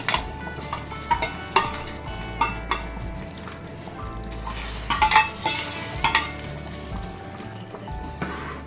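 A sizzling tempering is tipped into a chickpea curry and stirred, with steady frying hiss under repeated close metallic scrapes and clinks of a spoon against the pot.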